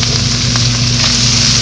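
Sliced onion and bell pepper sizzle loudly in a hot wok for chili pepper japchae, a dense, continuous frying hiss with faint stirring scrapes and no talking.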